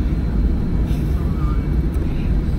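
Inside an airplane cabin just after landing, a steady loud low engine and air rumble fills the space, with faint murmuring voices in the background.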